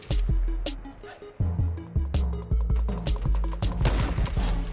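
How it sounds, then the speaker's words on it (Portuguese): Rapid bursts of gunfire in a Fortnite squad match, with repeated sharp shots at an uneven rhythm across the whole stretch, loud and close, with a few weapon clanks between the volleys. "Tá atirando o Mauro."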